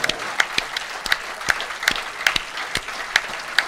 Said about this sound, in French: C'est gros applaudissements.